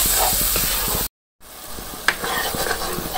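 Eggs hit a hot pan after tomatoes were fried down, giving a steady close sizzle with stirring scrapes, cut by a brief silent gap before the frying resumes with a sharp clink.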